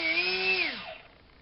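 A rewound DYS 2205 brushless motor on a thrust test stand whines at high pitch with a steady tone, then spins down and falls away after about two-thirds of a second, close and alone.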